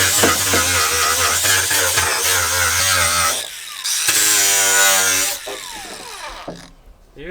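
An angle grinder grinds down a weld on the chassis of a Nissan S13: a loud, close, whining spin whose pitch rises and falls as it bites the metal, then winds down with a falling whine.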